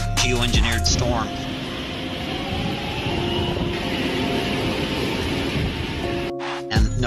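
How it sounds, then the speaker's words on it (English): A thunderstorm with heavy rain, a dense, loud, steady roar of rainfall with deep rumbling underneath, sustained throughout and cutting off briefly near the end. "Another man-made, geoengineered storm."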